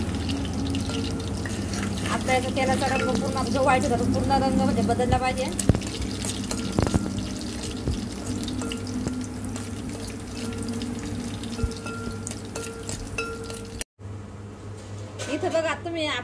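Homemade hair oil with leaves crackles and sizzles in a pan as the water cooks off, a steady fizzing bed of small pops running beneath continuous talking.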